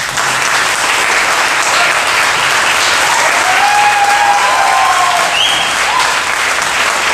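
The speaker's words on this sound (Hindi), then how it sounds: "ताली बजाकर" Church congregation claps loudly and continuously in welcome, a dense, unbroken roar of applause with a faint whistle-like tone rising through it.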